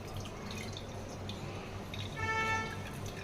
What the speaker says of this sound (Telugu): వాటర్ ఇలా ఫుల్గా కూల్ అయిపోయాక ఇంకా వేరే కంటైనర్లోకి మనం ఇలా ట్రాన్స్ఫర్ చేసుకోవాలి